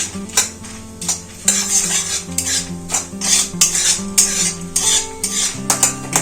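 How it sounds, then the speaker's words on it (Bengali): Cardamom, cloves, cinnamon and a bay leaf frying on low heat in a pan, with repeated close scraping and clinking of a metal spatula stirring over a light sizzle. "গরম মশলা এলাচ লবঙ্গ দারচিনি এই ফোড়নগুলো কম আঁচে ভেজে নেবো"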